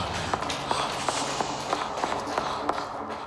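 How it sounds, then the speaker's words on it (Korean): Quick footsteps hurry down a stairwell as a horror-story sound effect, a steady run of sharp, evenly spaced steps, roughly three per second, close and clear over a dim, hissing background. "등 뒤에 발소리가 같이 빨라지는 거예요"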